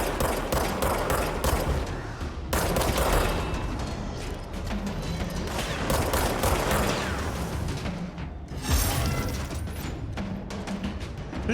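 Sustained automatic gunfire from the video game Control, dense bursts of rapid shots and booms continuing loudly almost without pause, with one brief lull partway through.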